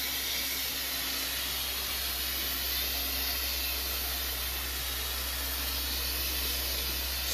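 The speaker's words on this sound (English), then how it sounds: "I'll do my best to do a little pre-spraying with you." Steady continuous hiss of a carpet cleaner pre-spraying a super dusty carpet, unbroken and even throughout with a low hum beneath, no talk.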